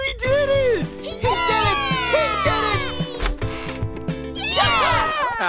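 A cat meows repeatedly in cartoon style, high wavering calls over a busy musical backing with mechanical ticking; no words are heard.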